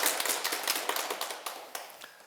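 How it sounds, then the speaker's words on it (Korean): Clapping from an audience at a Sunday Buddhist dharma service, honoring someone who asked a question; a quick run of sharp claps that gradually loosens and fades out. "오늘 질문해 주신 분께 박수 한번 보내주세요."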